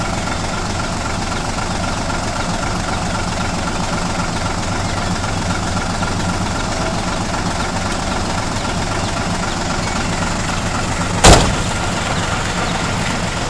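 A heavily loaded Hino truck with a failing engine runs with a loud, constant rumbling drone. A single sharp bang cuts through near the end.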